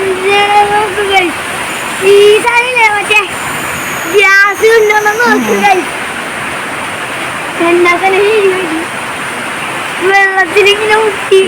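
Steady hiss of heavy rain pouring down in Ernakulam throughout, with someone talking over it at intervals.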